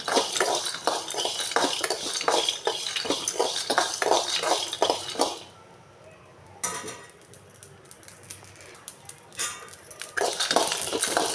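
Peanuts, coriander seeds and poppy seeds dry roasting in a pan, with rhythmic scraping and stirring strokes for about five seconds, then a quieter stretch with a few light clinks.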